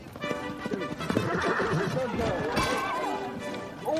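A horse whinnies and its hooves clop during a royal event where a rider takes a hard fall, with people talking and reacting loudly over the commotion throughout.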